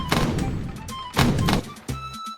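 Explosions from a custom tank blowing itself up on its own bullets in the video game Wii Play Tanks: two loud, blunt booming blasts about a second apart, each with a brief tail, then a short electronic game sound.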